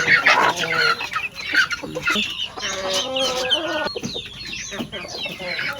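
Hens cluck and chatter continuously, close and fairly loud, a busy overlapping stream of short calls.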